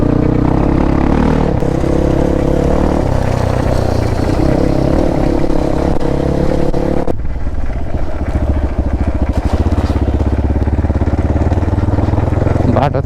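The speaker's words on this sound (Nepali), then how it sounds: "सबले यस्तो हेरिदिने क्या लाउड बाइक भएपछि त" A loud motorcycle roars along the road while being ridden, a constant heavy engine drone with wind rush that shifts in tone partway through.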